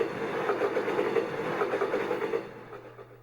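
Preset train sound effect played on a Roland GO KEYS 3 keyboard: a steady rhythmic clatter with a low hum, fairly loud and alone, fading out toward the end.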